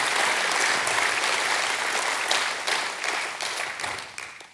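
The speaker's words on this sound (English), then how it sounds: "Can we applaud one more time for the men and women who have gone before us and made that possible?" A church congregation applauds together, a dense, steady wash of clapping that holds strongly for several seconds and then thins and fades toward the end, with no voices over it.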